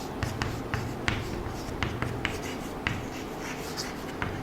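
Writing on a board in a college classroom, with steady scratchy strokes and sharp taps as the writing tool meets the surface in an uneven rhythm, close and moderately loud against a faint room hum.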